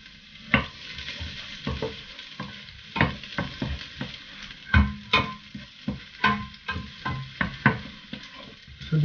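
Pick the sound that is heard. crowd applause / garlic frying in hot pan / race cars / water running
garlic frying in hot pan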